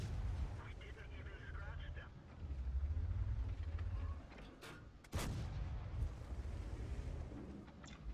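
A tank gun fires in the online game World of Tanks: a heavy booming shot with a sharp crack and rumbling tail stands out over engine drone, while someone talks throughout.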